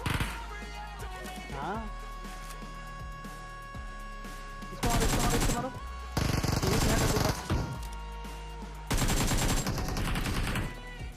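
Bursts of game gunfire from a mobile battle-royale shooter, where one player faces four opponents: a long opening stretch with background music, then three loud, dense volleys of rapid automatic shots spaced a few seconds apart, with no talk.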